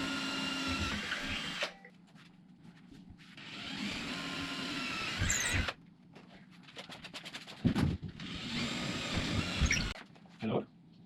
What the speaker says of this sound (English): I can go ahead and drill where those drywall anchors need to go